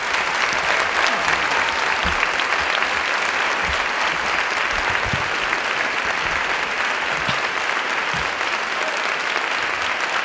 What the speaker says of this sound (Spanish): os pido un fuerte aplauso para Javier Gutiérrez